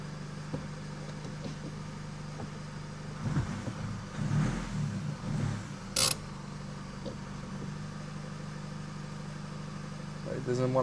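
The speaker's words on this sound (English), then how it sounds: "I can hear the engine tone changing" A remapped Nissan X-Trail engine with EGR and DPF deleted, prone to misfire at 3000 RPM, runs steadily at idle, a low constant hum with faint creaks and rattles and some brief louder bumps partway through.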